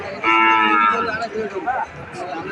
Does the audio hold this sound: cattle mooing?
yes